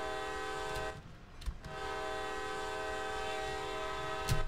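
A locomotive horn in the game Train Sim World sounds in two sustained blasts, a long steady tone that breaks off briefly and then resumes over a constant rumble of the train.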